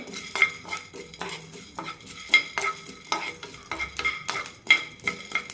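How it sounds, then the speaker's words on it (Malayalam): A utensil scrapes and stirs in a pan with a rhythmic series of clinks and scratches, and a light sizzle of black pepper and cumin seeds dry-roasting underneath. "നന്നായി വറുത്തെടുക്കാം"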